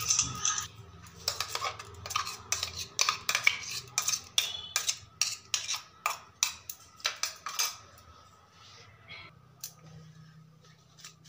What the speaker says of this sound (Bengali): প্রথমে আমি চিকেনটা আদা বাটা, পেঁয়াজ বাটা আর লঙ্কা গুঁড়ো দিয়ে মাখিয়ে নেব